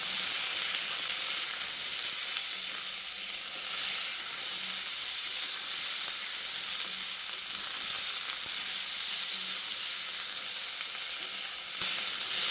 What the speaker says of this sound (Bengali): এবার এগুলোকে আলু ও মূলোর সঙ্গে আরও কিছুক্ষণ ভেজে নিতে হবে।